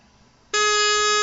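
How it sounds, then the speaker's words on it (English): A single sustained bagpipe note starts abruptly partway in and holds steady and loud to the end, with the opening low G grace note embellishment at its onset. "we start with that low G Grace note"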